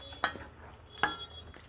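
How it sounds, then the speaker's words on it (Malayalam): A spoon scraping and stirring Kuttanadan duck roast in a pan on full flame, two sharp metallic clinks about a second apart with softer scrapes between, close and fairly quiet, without speech. "ഇതിനൊന്ന് മിക്സ് ചെയ്ത് കൊടുത്ത ശേഷം ഒരു 5 മിനിറ്റ് നേരത്തേക്ക് ഇതിനൊന്ന് അടച്ച് വെച്ച് ഫുൾ ഫ്ലെയിമിലിട്ടൊന്ന് വേവിച്ചെടുക്കാം"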